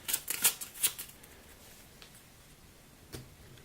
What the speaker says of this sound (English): This Jellyfish card that he used will get shuffled back in.